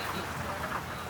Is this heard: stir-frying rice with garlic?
no